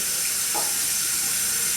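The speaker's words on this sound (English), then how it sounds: "We'll run some hot water into the jar of the Vaseline." Hot water runs from a tap into a jar of Vaseline, a close, steady hiss of pouring water with no voices.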